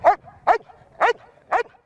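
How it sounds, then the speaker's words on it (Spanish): Police detection dog used in anti-narcotics and manual mine-detection work, barking four times in an evenly spaced rhythm, each bark loud and close with no talk over it. "Este perro es un perro muy hiperactivo"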